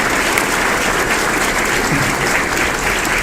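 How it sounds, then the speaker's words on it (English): Dense, loud applause from an audience at a college State of the College address, continuous clapping filling the whole moment with no voices. "Let's give one more round of applause to everybody who participated today"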